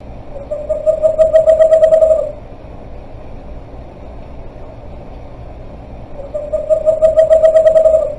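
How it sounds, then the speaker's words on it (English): Two soft, sweet tremulous owl calls, each a rapid bouncing trill lasting about two seconds, separated by a quiet pause. "Now, I'm going to be getting out Odin, our western screech owl, while you listen to his very sweet little call."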